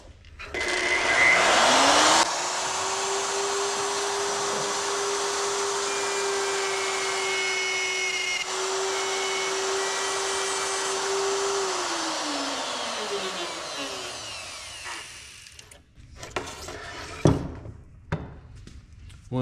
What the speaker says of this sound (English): When the router comes out of this slot, it's going to want to tear this.